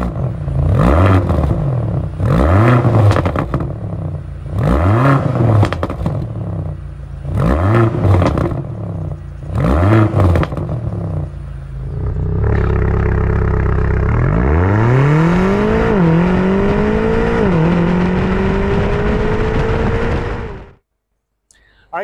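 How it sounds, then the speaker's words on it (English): A BMW XM accelerating hard, its engine revving through about five quick, aggressive upshifts in a loud rising-and-dropping rhythm, then one long sustained pull before cutting off. "You just get these gear changes that just throw your head back every single time."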